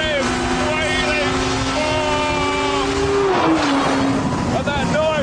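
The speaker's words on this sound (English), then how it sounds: "that noise all the time behind you of the wailing motorcycle engine, the Kawasaki." Kawasaki motorcycle engine of a T Rex three-wheeler wailing on a damp track, a loud high-pitched whine that rises and falls with revs, close by, with brief talk mixed in.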